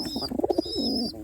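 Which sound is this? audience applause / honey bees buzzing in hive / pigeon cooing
pigeon cooing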